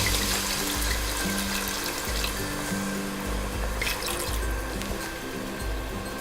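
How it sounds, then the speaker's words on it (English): White wine poured into a pot as a base for sriracha mussels, a steady liquid trickle and splash running throughout at moderate volume, alone with no talking. "I'm going to add in about 1 cup of white wine"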